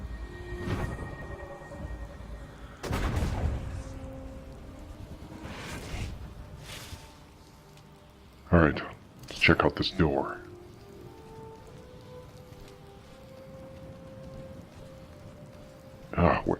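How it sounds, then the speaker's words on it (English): Steady rain patters down in a video game, a soft continuous hiss under a man's spoken remarks, broken by a few louder thumps and clatters. "Cannot wait to get out of this rain."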